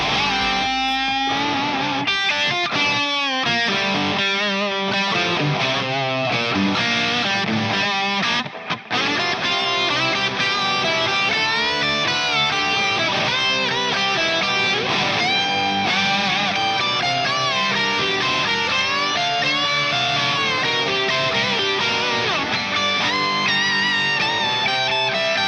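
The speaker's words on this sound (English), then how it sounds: "for this solo, I'm gonna need a drive, reverb, and delay" A distorted electric guitar plays a continuous, busy solo with drive, reverb and delay, notes ringing and trailing into one another at full level throughout, with a brief dip midway and no talking.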